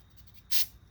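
Short burst of aerosol cleaner sprayed into the jets of a Kawasaki 750 carburetor, a single quick, close hiss lasting about a tenth of a second, with a second spurt just starting at the end.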